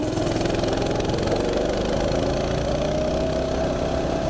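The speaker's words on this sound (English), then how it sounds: "Mini bike!" A Mega Moto mini bike engine runs steadily during a ride, a loud, close, constant buzzing drone with no break.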